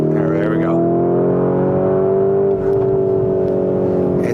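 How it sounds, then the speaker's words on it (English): A deep, loud exhaust roar drones continuously from a nearby Lamborghini Urus Performante with stock exhaust, holding a steady rumbling pitch with a slight rise toward the middle. "like you hear the exhaust kind of roaring, like sounds really, really good stock"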